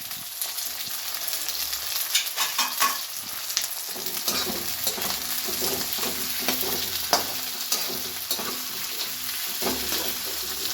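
Peas and carrots fry in a pan with a steady close sizzle, broken by the scrape and clatter of stirring throughout.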